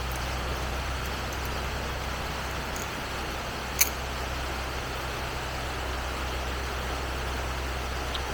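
Steady outdoor rain falls as an unbroken broadband hiss with a low rumble beneath, even and moderately quiet throughout, interrupted only by one brief sharp click near the middle.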